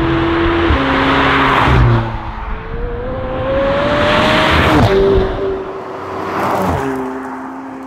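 A McLaren 720S engine revs hard and accelerates in surges, pitch climbing then dropping between gear changes, loud and close, with no talking.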